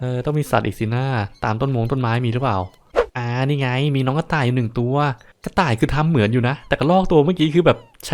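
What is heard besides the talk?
No distinct noise like a dog, phone or traffic.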